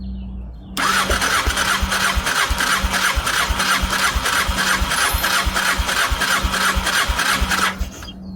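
Honda Deauville NT650V engine cranked at full throttle for a compression test on the rear cylinder, a loud, close, steady rhythmic churning of the starter lasting about seven seconds before stopping.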